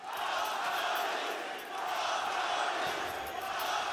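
Counter-Strike esports arena crowd at a PGL Astana match, a steady broad roar of cheering and chanting heard from a distance, continuous across the moment with a slight dip midway.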